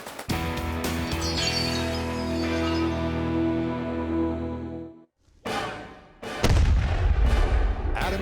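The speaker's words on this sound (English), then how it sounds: "They have a period-accurate cannon" A period-accurate cannon fires, with a long booming roar that decays over several seconds, then a short pause before another sharp blast erupts loudly.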